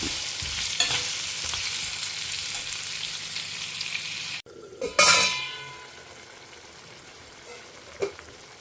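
Pumpkin pieces sauté in a pan for sambar, giving a steady close sizzle for several seconds, then a brief pause, a few scraping stirs and a quieter sizzle with one sharp utensil knock near the end.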